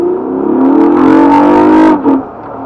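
A 2014 Honda Crosstour engine fitted with a K&N intake revs hard toward its roughly 6,000 RPM redline, a loud, close, rising drone that holds steady and then drops off sharply as the throttle is released.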